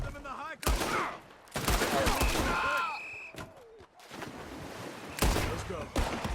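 Gunfire in the western game Red Dead Redemption 2: sharp, loud shots cracking out in irregular bursts amid a chaotic firefight, mixed with shouting voices and other game sounds.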